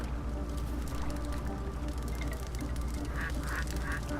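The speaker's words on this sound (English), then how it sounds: "No, those are ducks." Ducks in the video game Zelda Breath of the Wild, quacking and honking softly at a steady distance over a constant ambient bed, with a few brighter calls near the end.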